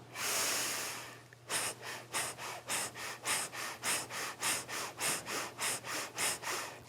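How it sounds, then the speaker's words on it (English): Breath of fire, a rapid yogic breathing practice during a kundalini pose: a long exhale, then a steady run of about fifteen quick, forceful, evenly paced breath bursts, close and alone. "We'll be holding this pose with a breath of fire."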